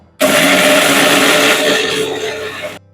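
A kitchen blender grinds dry poppy and cumin seeds, starting abruptly into a loud, close, whirring roar that runs steadily for over two seconds before cutting off.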